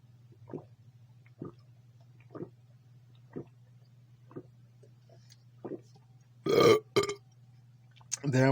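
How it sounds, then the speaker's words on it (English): A loud belch after eating an MRE field ration (a Norwegian arctic ration), bursting out near the end over a steady low hum and a few soft earlier clicks. "There was the first MRE burp"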